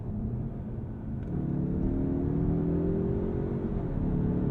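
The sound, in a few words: Mazda3 Turbo engine revving and upshifting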